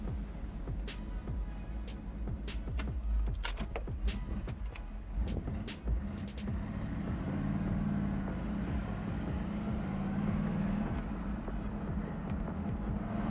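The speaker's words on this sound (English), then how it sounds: "All right, we're gonna go into 3rd gear now." A 1964 Chevrolet Impala SS with a manual gearbox and clutch moves along the road. Sharp clicks and clunks of shifting come first, then a steady low engine drone continues alone.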